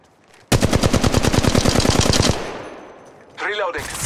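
Rapid automatic gunfire from the mobile shooter Apex Legends Mobile, a loud sustained burst of evenly spaced shots lasting nearly two seconds, then a fading tail and a short electronic game sound.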